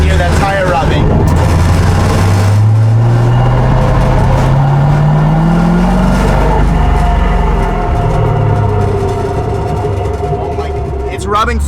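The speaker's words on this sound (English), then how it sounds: "I don't know if you can hear that tire rubbing." A roadster drives along with a tire rubbing badly enough to slow the car, giving a continuous engine and road drone with a shifting low tone. The sound is loud and constant, and the rub is not clearly separable from the drive noise.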